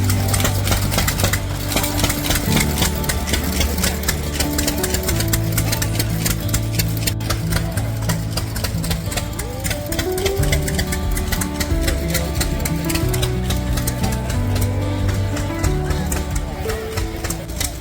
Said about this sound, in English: In Iowa, they make ice cream in an old antique hit and miss engine.